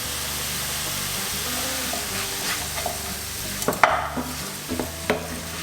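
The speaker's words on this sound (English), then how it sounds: "And mix that in and let it all brown off" Browning mince with garlic and oregano sizzles steadily in a frying pan, with scraping stirs and a few sharp utensil knocks against the pan, close and clear.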